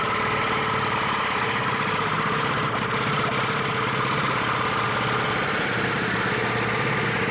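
A 1974 Evinrude 15 hp outboard motor runs steadily at idle for the whole stretch, a constant close mechanical drone with a low rhythmic throb and no talking.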